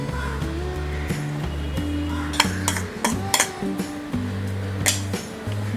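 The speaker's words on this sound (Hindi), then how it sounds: "मिक्स कर देते हैं और इसे हम लो फ्लेम में 3 से 4 मिनट तक फ्राई करेंगे" A spoon stirs coconut powder in melted ghee in a pan on a stove, giving repeated scraping strokes and a few sharp clinks of metal on metal over a low background hum, close by and moderately loud.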